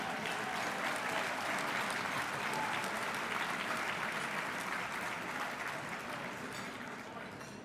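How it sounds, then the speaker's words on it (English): Dense, steady applause from a gala audience honoring alumni award recipients, loud and sustained throughout before easing slightly at the end. "How about a round of applause for our honorees here this evening?"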